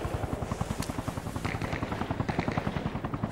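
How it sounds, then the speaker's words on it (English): Attack helicopters in the video game Arma Reforger, set in the Vietnam War, thump with a steady rotor beat and a dense, rapid rhythmic pounding of gunfire that carries on without a break. "after the helicopters have been pounding the area for the last few minutes"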